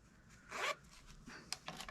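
A zipper on a fabric advent calendar is pulled in one quick, close rasping zip, followed by a few softer, shorter tugs and fabric rustles, faint and intimate.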